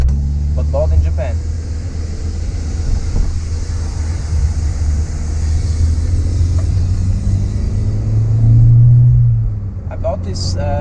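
Engine drone and road rumble from a Nissan Sunny Coupe GTi fitted with a genuine Nardi steering wheel, driving on Swiss mountain roads, a steady low hum that swells briefly near the end with wind buffeting over it.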